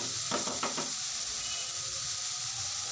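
Chopped vegetable frying in oil in a pan for shakshuka, a soft steady sizzle with a few quick stirring scrapes near the start.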